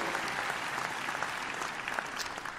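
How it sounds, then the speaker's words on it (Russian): Steady, dense applause from a large audience at a New Year and Christmas show, a continuous wash of many hands clapping at even volume, heard from some distance and fairly soft. "Аплодисменты для Екатерины Шангай."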